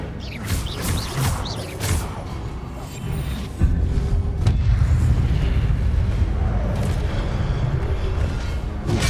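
An Incendio fire spell bursts out in Hogwarts Legacy gameplay, a loud booming, rumbling blast with sharp crackling hits early on, then a sustained heavy roar of fire and rumble that swells midway and holds to the end.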